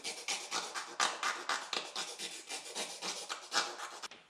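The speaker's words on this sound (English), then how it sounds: "So I'll just file out my cardboard a little bit." A hand file rasps against a cardboard template cut for a Wilwood mechanical parking brake caliper mount, with quick repeated back-and-forth strokes, close and steady, and no talking.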